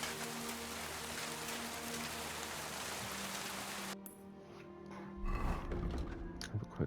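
Rain in the video game Kingdom Come: Deliverance II, a soft steady hiss of falling rain that drops away abruptly partway, leaving quieter low rumbling and scattered sounds.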